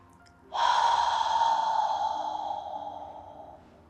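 A single long, deep breath during a yoga core exercise, starting abruptly and flowing steadily for about three seconds before slowly fading, close and clear against a quiet background.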